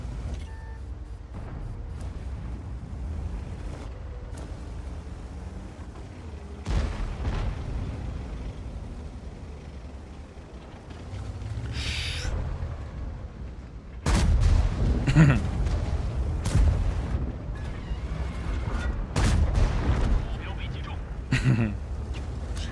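Tank cannon fire during a battle in the World of Tanks game with the 116-F3, heavy low booming shots that land abruptly around the middle and later in the clip, over constant engine rumble, with someone talking throughout.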